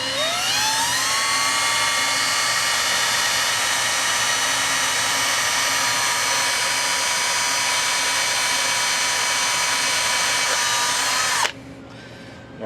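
A power drill bores with progressively larger bits during an upgrade to a Whirlpool washer's warm rinse option; one loud, close, continuous high whine runs steadily for about eleven seconds, then cuts off abruptly, leaving quieter room noise.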